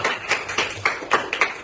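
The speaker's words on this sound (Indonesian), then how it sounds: "Kasih tepuk tangan untuk kita." Hand clapping in a classroom, a handful of separate, fairly close claps in an irregular rhythm over a quiet room, with no voices.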